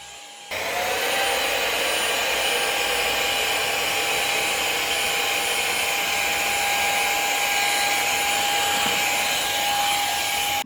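A 2024 ultra-compact mini blower runs steadily on its own, a loud continuous whine and rush of air that starts abruptly after a brief quiet moment and holds without pause.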